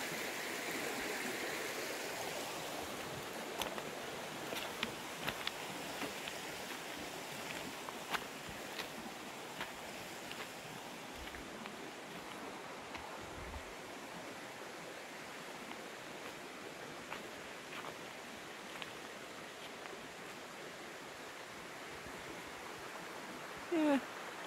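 Clear mountain creek flowing steadily on a trail in Washington, a soft continuous rushing wash with faint scattered ticks, moderately distant and unbroken.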